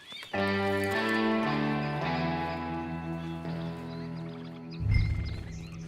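Red Dead Redemption 2 Online horse sounds: clopping hooves and a whinny over a sustained musical backdrop, with a louder snort-like burst near the end.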